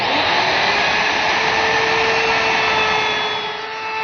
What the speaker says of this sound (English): round the top corner with a 1/2 inch radius bit